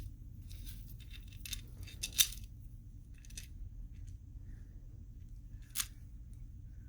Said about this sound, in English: we will cut 2 3-inch pieces